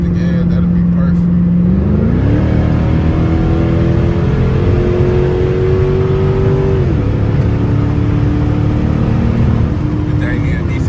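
Dodge Charger with a straight-pipe exhaust revs loudly up close, its droning engine note climbing, holding, then dropping as the throttle eases, with a continuous low rumble throughout.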